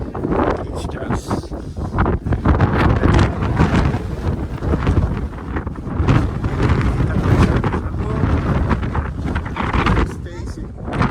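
Strong outdoor wind buffets the microphone in a continuous loud rumbling roar with gusty swells, nearly covering people talking.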